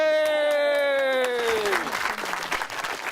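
A sliding, falling tone fades out and gives way to a burst of clapping from a festival audience at a show in Ballyshannon, rising to a busy patter toward the end.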